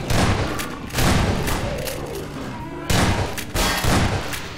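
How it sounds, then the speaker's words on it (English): Shotgun blasts fired at people and mutants in Half-Life 2 Episode 1, several heavy booming shots over a loud continuous game soundtrack, close and forceful. "the music really pumps you up to shotgun people and mutants"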